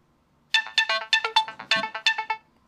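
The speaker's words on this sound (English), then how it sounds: "you can see I got a text message" A Samsung Galaxy S3 running Jelly Bean 4.1 plays its text message notification tone, a bright, clear, rhythmic run of quick melodic chime notes lasting about two seconds, loud and alone.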